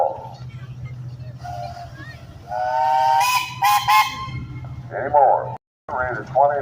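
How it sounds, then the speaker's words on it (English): A steam engine whistle at a parade steam engine show, from a simple double engine, gives a few loud, sustained tonal blasts in quick succession over a steady engine rumble, with crowd noise and talk around it. "you got a whistle"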